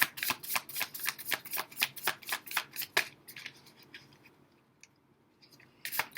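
A tarot deck being shuffled, giving a rapid, close run of crisp riffling card flicks that slows into softer handling and light taps, then resumes briefly with a few quick snaps.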